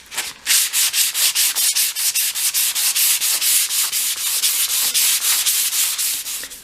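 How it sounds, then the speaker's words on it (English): Strips of dolls house wood being sanded by hand with a 500 grade disc on a block: a steady, rhythmic rasping, about four close back-and-forth strokes per second, loud and alone. "And I've got one of my 500 grade discs here on a block to make that job a bit easier."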